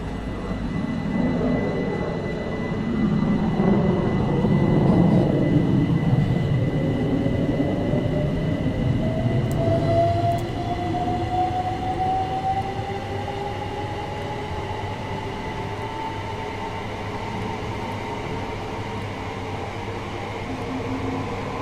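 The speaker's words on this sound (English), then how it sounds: "The train now features realistic door, traction motor, horn, and safety system sounds" A Class 377 electric commuter train in Train Sim World 2 hums and rumbles, with a traction motor whine climbing steadily in pitch as it accelerates. The sound is continuous and fairly loud, with no voices.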